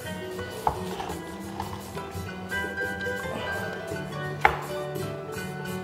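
A wooden tostonera press flattens a fried plantain piece with a couple of sharp thumps over a faint kitchen background, with no talking.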